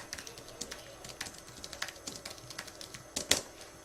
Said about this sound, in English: You could also type a little message in here.